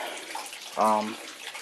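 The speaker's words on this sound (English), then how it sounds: "even though most of it had drained out, when the water heater was level, when you tilt it," Water gushes briefly out of an old electric water heater as it is tilted, a short loud burst of pouring and gurgling amid quieter background noise.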